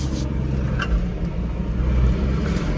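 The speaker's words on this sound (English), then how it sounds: "Drives pretty smooth, power steering." A car drives smoothly with a continuous close engine and road rumble inside the cabin, steady in level with no talk.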